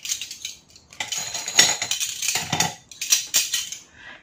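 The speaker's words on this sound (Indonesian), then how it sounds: "Ini sendoknya gede banget," Large stainless steel spoons clink and rattle against each other in quick, irregular bursts, close by, with short pauses between handfuls.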